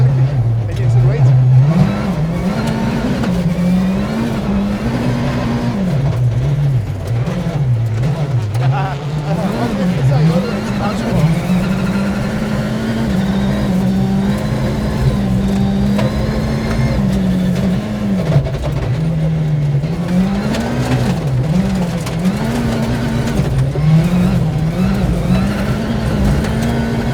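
A Citroën WRC rally car with a restricted engine of around 300 bhp accelerates and corners hard, its engine note rising and falling continuously through gear changes, loud and close, while someone speaks over it.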